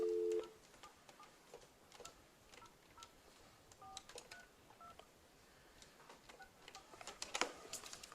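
A phone number is dialed on a hospital landline: a string of short, faint, evenly spaced dial tones over quiet room noise, with a louder tone at the start.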